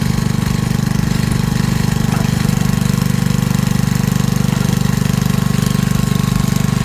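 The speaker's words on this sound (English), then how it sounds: "So he can cut like an 8-foot fence stake with his wood splitter." An engine-driven wood splitter works through an 8-foot fence stake outdoors, its loud, close engine drone carrying a fast, even knocking pulse that holds steady throughout.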